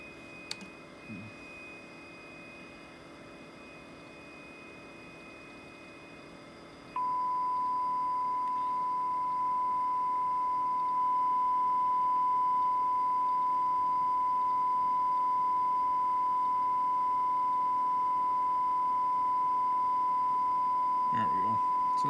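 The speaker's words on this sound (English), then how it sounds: "Let me switch over to a sine wave here." A steady 1 kHz sine test tone from a signal generator feeds a Motorola CDM 1550 UHF radio during modulation balance adjustment, holding loud and constant after a switch from a square wave, with faint bench noise around it.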